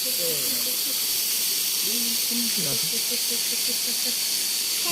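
A waterfall rushes in a constant, loud hiss over rocks, with people talking over the roar at a pre-wedding photo shoot.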